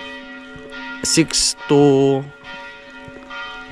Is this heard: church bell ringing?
yes